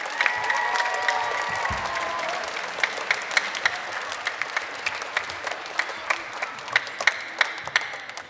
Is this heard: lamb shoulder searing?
no